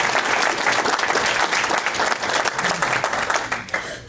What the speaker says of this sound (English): the successful applicants really deserve a round of applause.